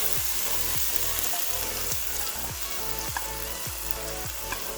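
A spicy eggplant stir-fry sizzles steadily and loudly in a wok as sauce goes in, with repeated scraping strokes of a utensil stirring through the hot oil.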